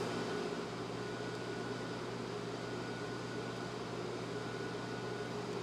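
A 1978 Amana Radarange Touchmatic II microwave runs its defrost cycle, giving off a steady, even hum and fan whir that holds unchanged throughout.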